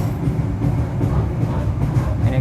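The KA Gumarang passenger train from Jakarta to Semarang arrives on track 3 at Bekasi station, a loud, continuous low rumble of wheels and carriages heard from on board, with no talk.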